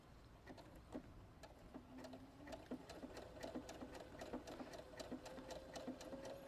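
Sewing machine stitching a textured finished edge along fabric, a quick steady rhythmic ticking of the needle with a faint motor hum, fairly quiet and close, no talk.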